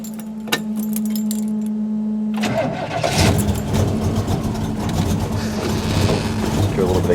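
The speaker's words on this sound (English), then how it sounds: "Try and start it up for you." Keys jangle briefly before a 1968 Chevelle 300 cranks and its engine catches, then settles into a rough, loud running rumble close by; a voice speaks faintly underneath.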